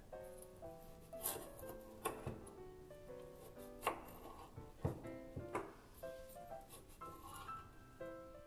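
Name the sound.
knife cutting baked saffron tozzetti biscuit strips diagonally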